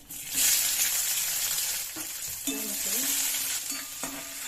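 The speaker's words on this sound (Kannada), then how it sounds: "ಸಾಸಿವೆ, ಜೀರಿಗೆ, ಕರಿಬೇವು ಸೊಪ್ಪು, ಈರುಳ್ಳಿ ಹಾಕೊಂಡ್ಬಿಡಿ." Mustard seeds, cumin, curry leaves and onion sizzle in hot oil for avalakki bisi bele bath, a steady loud frying hiss with a few stirring scrapes and light crackles, no talk.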